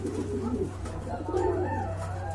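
A pair of Tailmark pigeons at a pigeon sale give soft, repeated throaty coos over a steady low hum, close by and unaccompanied by talk.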